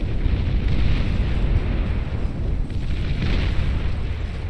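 A nuclear blast in the strategy game Beyond All Reason, a sustained low rumbling roar that stays loud and steady for several seconds with no talking.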